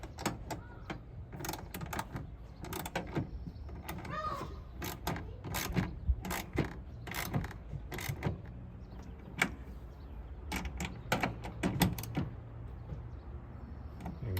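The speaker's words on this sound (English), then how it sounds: "So you take out your 1/2-inch socket, 9/16 socket, and here we go." A ratchet with a 9/16-inch socket tightens clamp bolts on a hard roll-up tonneau bed cover on a Ford Maverick pickup, giving quick close clicking runs in uneven bursts, with faint clanks and light background noise.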